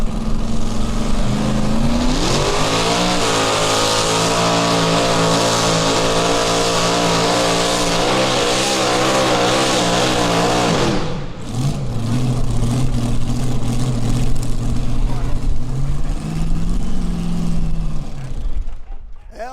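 A mini modified pulling tractor roars loudly at full power through a pull, its engine note rising and wavering. After a brief drop near the eleven-second mark it picks up again, then fades at the end.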